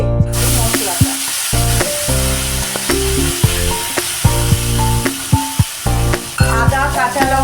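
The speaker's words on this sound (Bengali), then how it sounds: "এবার আমি এর মধ্যে দিয়ে দিচ্ছি মশলাটা।" A spice paste of ginger, green chilli, cumin, coriander and Kashmiri chilli hitting hot oil with fried tempering, a loud close sizzle and fry with repeated clanking stirs and scrapes of a utensil in the pan.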